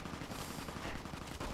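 Enemy gunfire in Fallout: New Vegas: a dense, steady automatic rattle with quick repeated shots running throughout, fairly quiet and slightly distant, with no talk over it.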